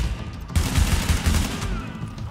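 Burst of rapid automatic gunfire from a weapon in The Division, a loud sustained volley of shots beginning suddenly after a short quiet lead-in and continuing to the end.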